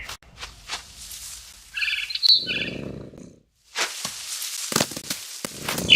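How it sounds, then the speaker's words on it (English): A barn swallow chirps in the video game What Remains of Edith Finch, a few short high tweets and twittering calls scattered among soft clicks and rustles, fairly close and moderately loud. "Then I heard chirping outside my window. It was a barn swallow going back to her nest."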